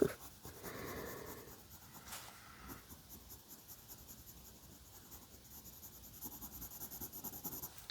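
A short, worn-down brown colored pencil scratches steadily across paper while a paintbrush handle is colored in, giving a continuous close-up rasping hiss with a louder stretch near the start; no voices are heard.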